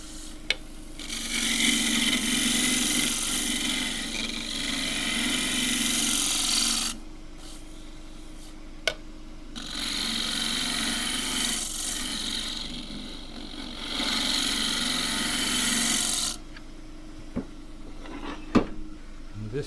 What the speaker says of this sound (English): This gets power sanded with 120 grit.